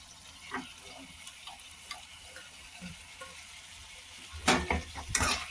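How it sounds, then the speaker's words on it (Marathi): Potatoes and cluster beans are stir-fried in a pan, a soft continuous sizzle dotted with light spatula taps, then two louder scraping stirs near the end. "गवार पण आपण परतून घेऊ मस्त"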